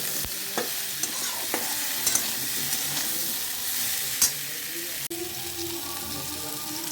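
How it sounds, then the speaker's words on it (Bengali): Fish curry spices with salt and turmeric fry in a pan, giving a steady soft sizzle. A spoon stirs and scrapes now and then, with a few sharp clinks against the pan. "এবার লবণ দিয়ে দিলাম এক চামচ হলুদের গুঁড়ো দিয়ে দিলাম, দিয়ে আমি ভাজবো।"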